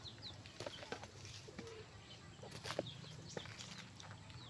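Faint chirps and coos come from birds around a coop where chicks and pigeons are kept. They sound like soft scattered calls over quiet outdoor background noise, with no talking.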